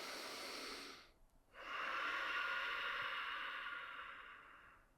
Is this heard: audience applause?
no